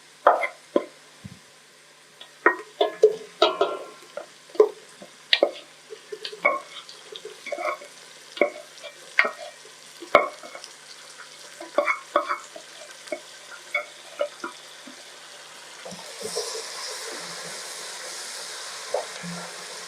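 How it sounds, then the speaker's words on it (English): Previously boiled beef sizzles in a pilau pot as a spoon stirs it, giving irregular scraping and clattering strokes over steady frying, close and without talk, ending in a louder hiss. "Now, at this point, we can add our beef."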